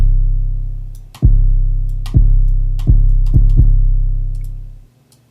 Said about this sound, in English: So now it's going to sound like way more distorted,